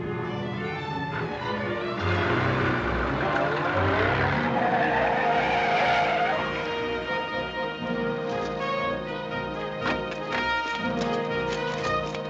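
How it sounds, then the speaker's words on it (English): A 1949 armored car approaches and drives off, with engine roar and tire squeal swelling to a loud peak and then receding, set against dramatic orchestral music. "The armored car is approaching."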